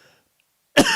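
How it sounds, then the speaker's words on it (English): One sharp, loud cough bursts out near the end after near silence, close to the microphone, from a man reading aloud who is recovering from COVID. "I've got a bit of a cough"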